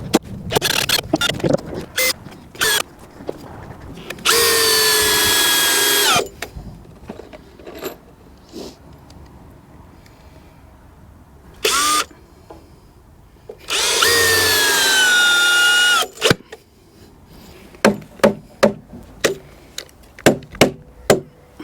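A Makita drill serves as a hammer on timber during a shed build: sharp knocks and scattered taps close by, broken by two long bursts of high-pitched drill whine, with further loud strikes toward the end.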